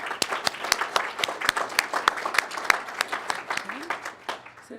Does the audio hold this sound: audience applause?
yes